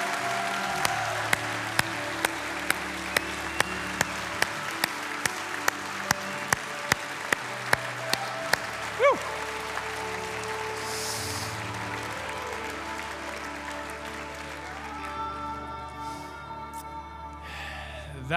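Church congregation clapping, a sustained wash of applause under sharp, evenly spaced loud claps from a nearby pair of hands, which stop about halfway; the clapping then thins and fades while faint murmurs and a brief tonal sound rise near the end.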